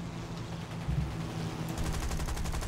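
Rear gunner's .30 cal machine gun firing in War Thunder, aircraft combat in an Iwo Jima battle, rapid bursts of rattling shots over a steady engine drone.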